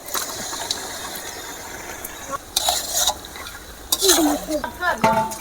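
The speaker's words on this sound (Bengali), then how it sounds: "এবারে ম্যারিনেট করা মাংসটা দিয়ে দেব" Marinated goat meat sizzling in a hot pan, with bursts of stirring and scraping, and a brief voice in the background.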